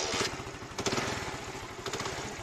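A motorcycle engine catches after a kick-start and runs with a loud, rough, steady putter, the revs bumping up briefly a couple of times.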